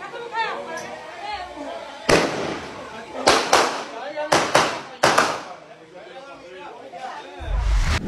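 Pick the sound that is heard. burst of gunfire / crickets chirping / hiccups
burst of gunfire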